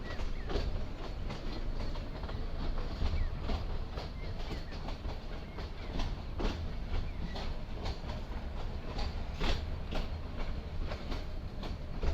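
A heritage train arrives at Khamli Ghat railway station in Rajasthan, with a steady clickety-clack of wheels on rails heard nearby and a constant rolling rumble throughout.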